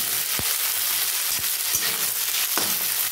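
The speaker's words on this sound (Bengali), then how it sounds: "ক্যাপসিকাম দিয়ে দিলাম, হলুদ, লাল, সব রকম ক্যাপসিকামগুলো আমি দিয়ে দিলাম। দিয়ে এটাকে আমি এইভাবে নাড়তে থাকবো।" Yellow and red capsicum stir-fried in very hot oil for street-style veg chowmein, a dense continuous sizzle with a few sharp spatula knocks against the pan, close and loud, no voices.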